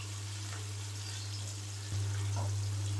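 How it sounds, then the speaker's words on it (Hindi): Onions frying in oil for a dhaba-style bhindi masala give a steady, close sizzle over a low hum, growing slightly louder partway through. "प्याज को हम यहाँ पर 3 से 4 मिनट तक फ्राई कर लेंगे"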